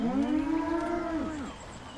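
A cow in the game Fallout 4 lets out a single long, loud, mournful moo that holds steady and then bends downward before fading, with nothing else around it.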